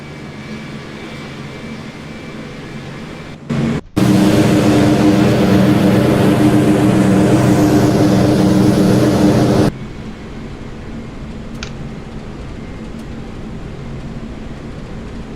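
B-17 Flying Fortress engines in a flight game: a loud, steady multi-engine propeller drone that suddenly swells in, holds for about six seconds, then cuts back to a quieter background rumble.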